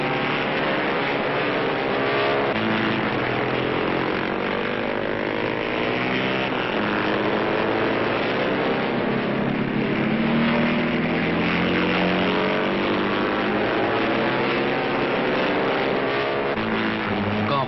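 A racing motorcycle lapping an 8 km road circuit, its engine a steady, sustained drone held at high revs with slowly shifting pitch, loud and continuous with no pauses.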